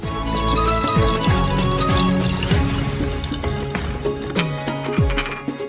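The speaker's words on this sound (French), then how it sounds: "Versez 2 bouteilles d'alcool dans la fiole." Alcohol pours steadily into a glass flask, a continuous close gurgle with rising glassy ringing tones and repeated falling glugs as the vessel fills.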